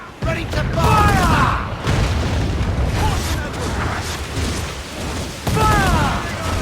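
Ship cannons boom during a naval battle in Assassin's Creed Black Flag: heavy, rumbling blasts fire in repeated bursts under a steady roar of wind and sea, while crew voices shout over the gunfire.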